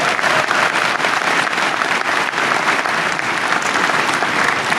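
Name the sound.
audience applause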